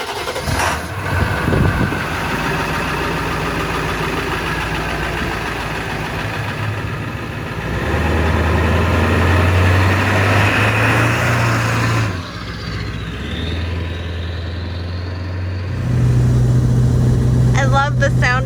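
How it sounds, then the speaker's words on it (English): A diesel engine on a truck camper idles and then rumbles as the rig pulls away, loud and steady with low throbbing tones, with people talking over it. "I love the sound of that diesel engine."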